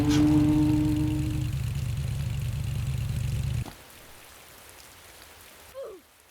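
Steady hiss of rain in Roblox Jailbreak over an idling vehicle engine hum that cuts off abruptly, leaving only soft rainfall and a brief faint chirp near the end.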